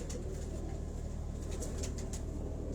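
A pigeon shown by a pigeon keeper in Lahore, cooing in low, steady, repeated pulses close by, with faint chirps and rustles above.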